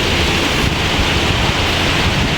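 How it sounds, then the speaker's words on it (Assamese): A river rushes down from the mountains of Bhutan beneath a bridge, a dense, continuous loud roar of flowing water that stays even and close with no speech. "ইয়াৰ পৰা দুখন নৈ ভূটানৰ পৰা বৈ আহিছে"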